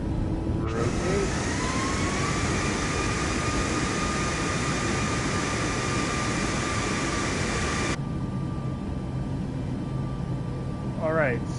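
Aircraft engine roaring at takeoff thrust in Microsoft Flight Simulator, a loud steady whine and rumble with a sustained tone, which drops abruptly in level partway through, with a short voice callout near the end.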